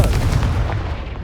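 A Confringo blasting spell cast in the video game Hogwarts Legacy, a single loud, heavy booming blast that fills the whole short moment and then fades away.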